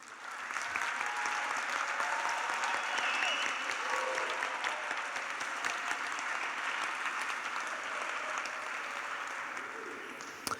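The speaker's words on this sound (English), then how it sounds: "join me in giving a rapturous round of applause to our amazing" Sustained, dense applause from a large audience at a 2024 graduation ceremony honoring the graduates, steady and fairly distant for about ten seconds before tapering slightly.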